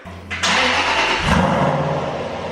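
An Aston Martin V8 Vantage with straight pipes cranks briefly, then catches and roars into a deep, steady V8 rumble that settles toward idle.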